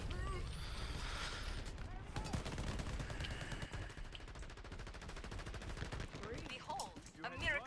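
Gunfire in the shooter game Shatterline, with rapid automatic bursts rattling steadily for several seconds at fairly low level while a player talks underneath.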